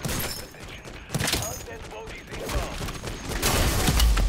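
An M4 conversion kit fires rapid bursts in Modern Warfare 3 Zombies, loud crackling gunfire with booming impacts spread across the moment, a voice faintly present underneath.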